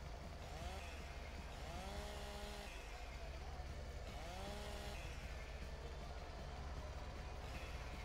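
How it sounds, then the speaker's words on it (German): A chainsaw cuts timber in the farming game Farming Simulator 17, a continuous droning engine whine that rises and falls in pitch, steady and moderately loud throughout. "Ihr schneidet erstmal den Kopf ab. Kettensägenmassaker oder was?"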